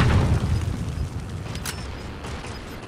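A grenade blast in a video game, a deep boom at the start that rumbles and fades over a few seconds into a quieter background.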